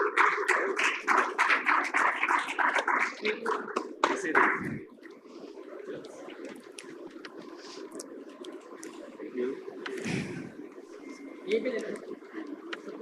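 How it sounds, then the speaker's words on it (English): A conference audience at a sugar industry panel session claps for the moderator; a scattered burst of clapping fills the first few seconds, then fades as a voice talks over a quieter room. "Can we please have a huge round of applause,"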